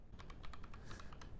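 Quick, light keystrokes tap out an SQL command on a computer keyboard, about a dozen soft clicks in a brisk, even burst, faint and close.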